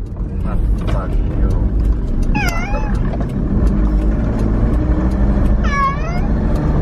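A pet cat on its first trip meows twice, a few seconds apart, over a loud continuous vehicle rumble.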